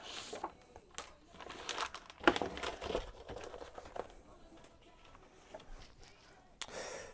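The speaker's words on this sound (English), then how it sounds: "Another piece of paper out." A sheet of photographic paper is handled and crinkled under a darkroom safelight while a dog portrait print is made, giving soft intermittent rustles with a sharper crinkle near the middle, fairly close and quiet.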